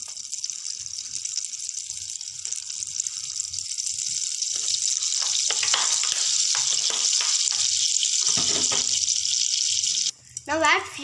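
Hot oil sizzles steadily as cinnamon goes into a pan for green peas masala, a bright hissing fry building in strength and holding loud, with a short break and a clatter near the end.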